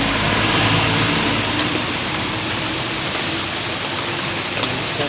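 Steady rain falls outdoors in Tiruvannamalai, a dense, even hiss of drops on surfaces that continues unbroken from start to finish without any talking.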